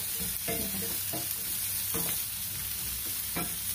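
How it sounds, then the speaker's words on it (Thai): An omelette and vegetables are stir-fried in a dry pan without oil for fried rice. A low sizzle runs under a handful of distinct spatula scrapes, fairly quiet, with no voices. "ต้องผัดให้น้ำแห้งนะคะอย่าใส่น้ำเยอะนะคะ"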